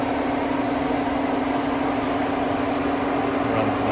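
A 2012 Ford Edge Limited AWD with a 3.5 liter V6 and 130,000 miles idles steadily, a smooth, even low hum with no other sounds.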